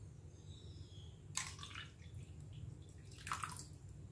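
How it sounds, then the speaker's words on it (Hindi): Water poured from a cup into cooled homemade mango juice in a kitchen, a short splashing pour followed by a second brief pour, faint and close. "अब इसमें डाल देंगे 1 कप पानी।"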